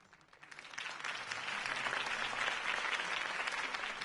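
Crowd applause swells after Harvey Dent's campaign speech, Batman, rising over the first second into steady, dense clapping from a large audience that holds loud and even to the end, with no talk.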